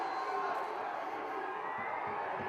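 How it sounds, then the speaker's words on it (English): Stadium crowd at a college rugby semifinal, fans of both teams cheering and chanting; a steady, dense roar of many voices at a distance, unbroken throughout. "you can hear the stadium there, both sets of fans cheering on their team"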